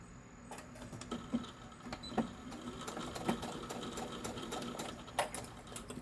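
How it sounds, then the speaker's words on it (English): A sewing machine stitches around the edge of a small fabric carry-all, giving a quiet, steady whir broken by short mechanical bursts. "we're going to sew all the way around."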